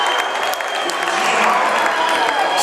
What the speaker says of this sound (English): Biggest rise from the crowd we've heard tonight.